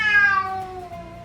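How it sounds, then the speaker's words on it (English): A cat meows in a drawn-out, falling cry from inside a bag, loud and close, with no voices. "the cat meowing in the bag that I got him this summer"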